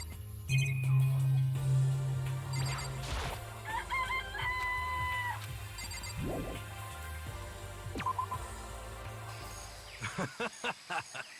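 Crowing and clucking chickens from the Danganronpa video game fill the scene, several calls rising close and loud over a steady game background, with a few sharp clicks near the end.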